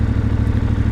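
CCM Ibex 450 motorcycle engine cruising at about 70 mph and 6,100 RPM with a 15-tooth sprocket fitted, a loud, steady, throbbing low drone heard up close throughout this brief moment, with no talking.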